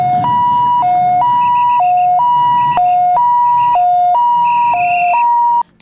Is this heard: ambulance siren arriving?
yes